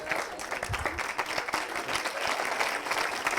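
Audience applause during a clap-o-meter vote at a social selling forum in Nantes, a steady wash of clapping from a crowd that holds evenly for a few seconds without any voices.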